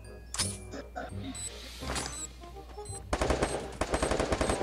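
Rapid bursts of Free Fire video-game gunfire, sparse shots at first, then dense automatic fire crackling loudly in the second half.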